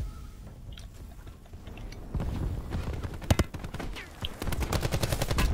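Gunfire in a shooter video game: rapid bursts of sharp gunshots and machine-gun rattles grow denser and louder, with clustered cracks in the second half over a rumbling battle background.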